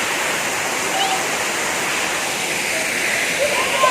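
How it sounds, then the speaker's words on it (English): A waterfall in Ukambani, Kenya, pours with a steady, dense rushing roar that stays even and unbroken throughout, close and fairly loud. "It is just a natural wonder to see such a waterfall in Ukambani guys."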